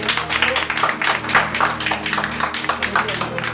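Congregation clapping for Christ during an evangelical sermon, a dense, steady wash of hands filling the room, with voices and music-like tones mixed underneath.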